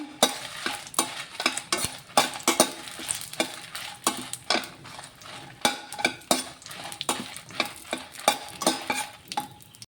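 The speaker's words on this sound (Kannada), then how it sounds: "ಇದಕ್ಕೊಂದು ಐದು ಗುಂಟೂರು ಮೆಣಸಿನ್ಕಾಯಿ ಹಾಕಿದೆ" Dried Guntur red chillies frying and being stirred in a pan for a spicy okra curry, with repeated sharp scraping strokes of a spoon over a soft sizzle, close and steady throughout.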